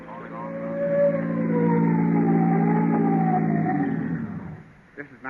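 A police car siren used as a radio-show sound effect rises and holds in a long wailing sweep for several seconds, then winds down and fades, loud and up close, with a few clattering noises at the end.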